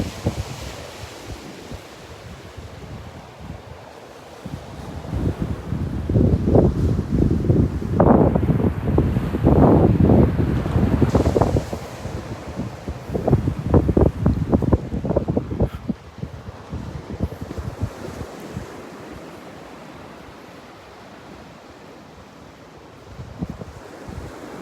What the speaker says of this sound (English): getting into a nice sunny spot on the beach